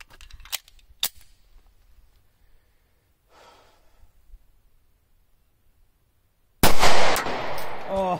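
A single loud .45 ACP pistol shot fires a G2 Research Telos round, a sharp close blast near the end that rings on briefly after a stretch of near silence broken by a few faint clicks and handling noises.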